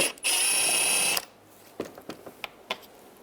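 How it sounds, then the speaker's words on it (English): A 7mm socket on a ratchet backing out a bumper screw on a 2010-2017 Chevrolet Equinox: a brief whirring burst, then a few sparse, close clicks of the pawl. "Use a 7mm socket. Take this screw out right here."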